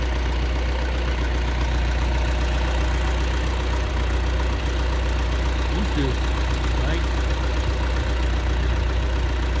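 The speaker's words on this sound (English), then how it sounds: "I'm gonna pull the tractor out of here and get two more" A tractor engine idles steadily and close by through the whole stretch while cattle are fed hay bales in cold winter weather, its low rumble constant under a brief spoken remark.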